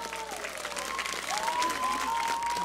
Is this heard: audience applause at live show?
yes